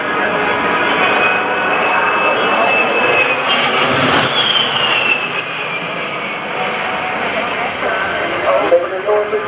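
A-10 Thunderbolt II jet engines roar loudly and continuously during an air show maneuver, the pitch sweeping as the aircraft turns, with an announcer speaking over the noise.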